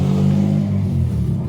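A passing car accelerates in the background, a steady low engine rumble with strong harmonics that holds fairly loud for about a second and a half, then eases slightly toward the end.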